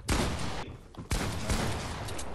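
Rapid gunfire in a heated 2v2 video game battle: loud, dense bursts of shots crackle close up, with a brief lull before another volley.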